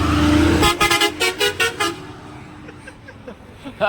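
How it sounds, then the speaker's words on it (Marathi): A loud luxury sleeper bus horn blares, then honks in a rapid series of short repeated toots before fading into road noise, on the NH-66 highway at Nadgive Ghat in Konkan. "हॉर्न मार हॉर्न मार"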